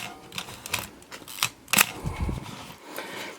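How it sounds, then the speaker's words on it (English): Several sharp mechanical clicks and whirs from a Pentax MX 35mm film SLR camera, a shutter snapping and the film advance ratcheting, close and fairly quiet, with no talking. "we can see film transport works and the shutter curtains are working."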